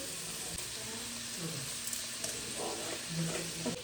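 Onions and green chillies sizzling in hot oil in a pan, a steady close frying hiss with faint stirring scrapes running throughout.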